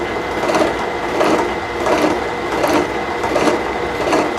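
A gear cutter machines 4140 steel dry, with no flood coolant, making a steady grinding whir. Each cutting stroke surges in a regular rhythm, about every three quarters of a second, close and loud.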